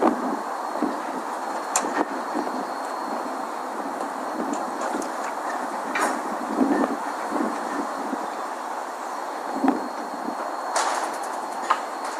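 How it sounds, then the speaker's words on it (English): A train approaching slowly at a rail crossing fitted with a rowan barrier in Ireland, heard as a steady rumble of wheels on track with occasional clanks and squeals, moderately close and continuous, with no talking. "it's a little slow, but the train is coming"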